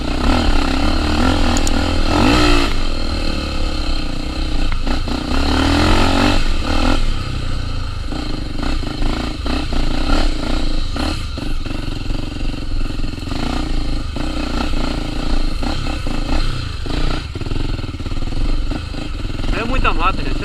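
A Honda Tornado 250 motorcycle revs and accelerates along a dense forest trail, its engine rising and falling in bursts with clattering and scraping, close and loud throughout.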